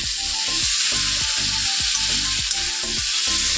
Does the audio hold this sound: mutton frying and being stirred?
yes